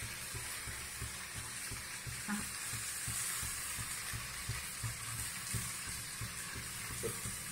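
Mutton pieces seasoned with salt fry in a pan, giving a steady, dense sizzle with occasional stirring clatter throughout, close and continuous with no talking.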